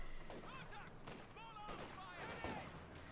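Gunfire from the real-time strategy game Company of Heroes 2 crackles in scattered faint bursts and pops as Volksgrenadiers trade shots in the open, heard under a commentator's continuous talk.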